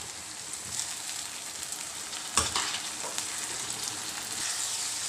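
Chopped tomatoes are added to lightly golden onions and fry in a pan, stirred with a spoon. A steady, close sizzle carries a few scraping stir sounds and one sharp clatter of the spoon against the pan.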